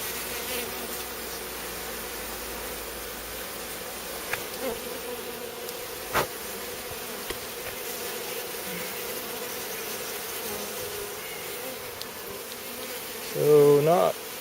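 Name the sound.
honey bees buzzing in a new hive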